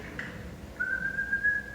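A clear, sustained whistle rising slightly in pitch, heard over faint background noise after a brief softer note at the start.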